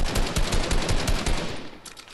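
Rapid automatic gunfire in a video game, a fast run of loud close bursts that cuts off near the end, leaving a quieter tail with a few distant shots.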